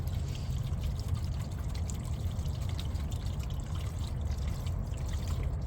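Premixed 50-50 coolant pours steadily into a JCB backhoe, a continuous close gurgling stream of liquid with no talk.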